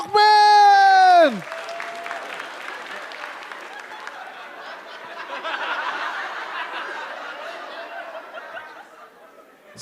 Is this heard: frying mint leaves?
no